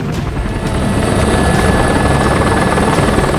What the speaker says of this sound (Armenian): Ուղղաթիռը մեզ թողում է անտառի խորքերում եւ հեռանա։